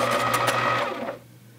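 A pencil being ground in a pencil sharpener gives a steady, loud mechanical whirring buzz close by for just over a second, then stops abruptly, leaving near silence.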